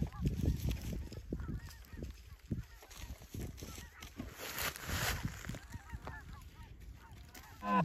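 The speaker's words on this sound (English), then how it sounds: "Geese are still coming." Flock of geese honking repeatedly as they fly in over a goose hunt, a dense overlapping chorus of calls at moderate distance, with faint voices in the background.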